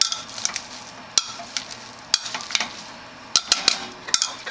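Garlic potatoes being mashed with butter and milk, a run of irregular soft squelching strokes and sharp utensil clicks against the pot, close and fairly loud with no talking.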